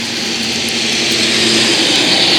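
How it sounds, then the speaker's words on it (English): Traffic roar from a busy main road, a loud, continuous rushing drone of passing vehicles that swells slightly, with no voices. "I apologize for the road noise."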